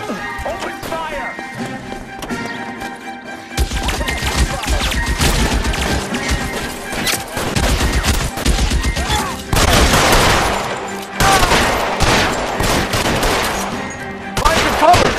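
Gunfire from a shootout in the video game L.A. Noire, with loud dense volleys and rapid bursts that keep coming over a busy background of game sound, and voices shouting in the middle of it.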